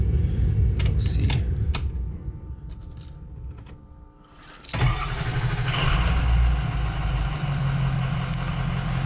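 A bus engine cranks briefly after a hot-start check, then catches and settles into a steady, loud idle with a fan-like whir, preceded by faint clicks and shuffling.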